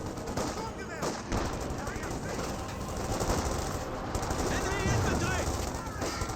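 Steady rattling bursts of gunfire and explosions in Company of Heroes 2 fill the scene, with a voice talking over the dense, continuous combat noise.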